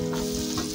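Onion hits hot cooking oil and sizzles in a brief, loud, close burst of steady crackling, with a faint stirring scrape underneath.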